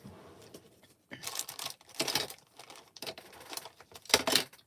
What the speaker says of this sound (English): Let me tape that down.